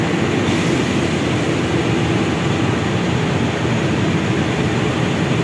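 Jayabaya passenger train from Malang to Jakarta Pasar Senen, hauled by a locomotive, at a station: a steady, loud rumble of rail cars and engine noise that continues throughout without voices.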